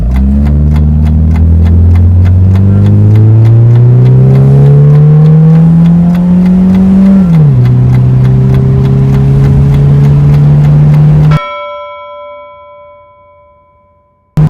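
A 2.0-litre Opel Calibra coupé with an automatic gearbox pulls away from a standstill, its engine rising loudly through the revs, dipping briefly at a gear change and climbing again before cutting to a short quieter tail.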